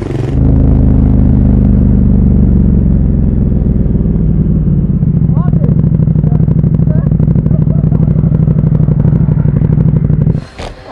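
An old car engine rumbles and runs steadily close by, loud and low, with a slight rise in revs partway through.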